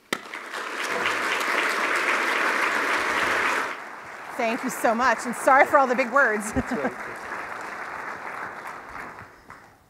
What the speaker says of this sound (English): Would you please welcome her with applause?